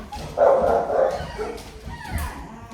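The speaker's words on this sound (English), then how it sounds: "My dogs are acting up in this reading" Dogs barking indoors, a short burst of loud, close barks followed by softer yips and a whimper, with faint background noise and no clear talk.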